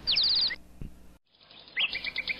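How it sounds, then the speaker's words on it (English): Birds chirp in a forest: rapid high trilling tweets come in quick bursts near the start and again after a short silence, loud and close over a soft background. "Little Red Riding Hood sometimes liked to just sit and watch all the birds and tiny animals that lived in the forest."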